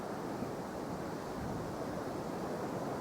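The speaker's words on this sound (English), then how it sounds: "He shows you how windy it is." Strong wind buffeting the microphone on an open golf course, a steady loud broadband roar that stays constant throughout with no talking.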